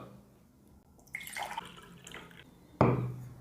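Alkaline pH drops fall into a glass of water in a few soft liquid plinks, followed by one sharper, louder drip or splash near the end, heard alone without talk.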